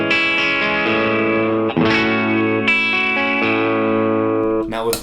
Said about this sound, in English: here's how my guitar sounds without the pedal. I'm running it into a Kemper with a profile of my Mesa Boogie Fillmore 50